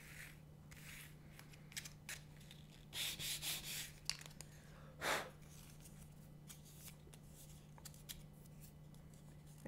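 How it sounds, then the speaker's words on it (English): Close, quiet scratchy rubbing of 400 grit sandpaper inside a krummhorn reed, short irregular bursts of sanding separated by pauses, over a faint steady hum. "This is some 400 grit sandpaper. You can also use 200 grit sandpaper."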